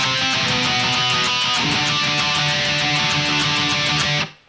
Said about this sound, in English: But that part right there is all octave chords.